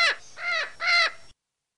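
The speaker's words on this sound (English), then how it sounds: "we all know that sound, kids. It's Stinky the Seagull back from the landfill" A seagull gives three harsh, nasal squawks in quick succession, loud and close, then silence.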